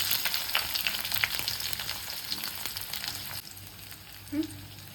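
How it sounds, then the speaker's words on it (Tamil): Sliced onion with fenugreek and cumin sizzles steadily in hot oil in a pan, with a constant close crackle and a brief stirring scrape near the end. "2 பச்சை மிளகா சேர்த்துட்டு நல்லா ஃப்ரை பண்ணிக்கலாம்."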